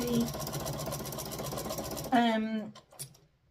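A sewing machine quilting a fabric sandwich whirs steadily for about two seconds, then stops as a voice begins speaking.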